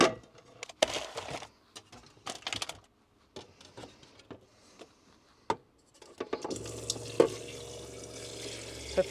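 Water runs into a small campervan sink, starting after a stretch of scattered clicks and knocks and flowing steadily and close for the last few seconds, with no talk.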